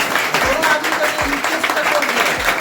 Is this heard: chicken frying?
no